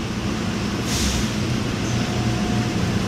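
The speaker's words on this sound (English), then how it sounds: "Welcome aboard the plane train. Please hold on. This train is departing." Atlanta airport plane train pulling away from a station, a steady low rumble and rolling hum of the rail car with a brief airy hiss near the start, close and continuous.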